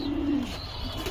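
A racing pigeon hen gives a low, soft coo close by, one drawn-out call fading into quiet background noise.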